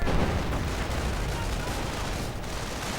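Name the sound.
gunfire in a World War II strategy video game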